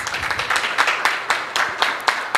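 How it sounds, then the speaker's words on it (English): Audience at a morning church service claps for a woman being introduced, a dense patter of hands with uneven peaks, fairly close and steady for a couple of seconds. "Clap for her, please."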